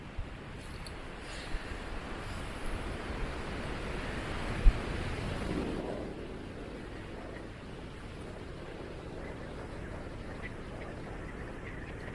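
Strong gusting typhoon wind on a beach in the Camotes Islands, Philippines, buffets the microphone in a constant rumble, with a surge of surf-like roar in the middle and occasional thumps.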